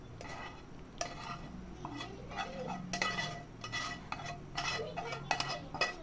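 A spatula stirs fried grated coconut into sticky melted jaggery in a pan over a low gas flame while making narkel nadu. Scraping and clinking strokes repeat at an uneven pace, close and moderately loud, with a faint sizzle beneath and no talking.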